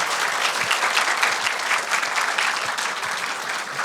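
Dense, continuous applause fills the hall at a Jeonnam student council session, a broad wash of many hands clapping at once, loud and steady with no talk over it.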